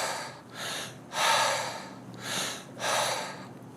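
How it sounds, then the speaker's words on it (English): Slow belly breathing: five long, airy breaths alternate between inhales and exhales at an even, unhurried pace, close to the microphone and heard alone without talk. "we will be breathing from the belly, and it'll be about a pace like this"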